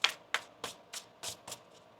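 Tarot cards shuffled by hand in six crisp riffling bursts at an even, quick rhythm, close and clear with no talking.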